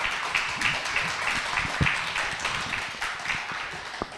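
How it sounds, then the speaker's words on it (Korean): At an academic theology conference session, a modest audience applauds to welcome a presenter, a steady patter of clapping with some distinct louder claps and light thumps. "박수로 맞이하시겠습니다"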